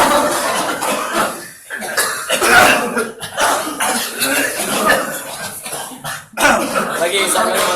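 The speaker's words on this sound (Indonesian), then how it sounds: "batukan" Several people cough repeatedly during a ruqyah healing session, with harsh throat-clearing coughs overlapping and coming in uneven bursts amid a murmuring, crowded room.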